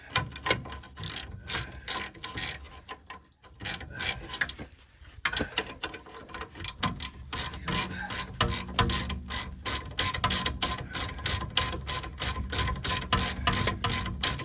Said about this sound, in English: we can start tightening it all down now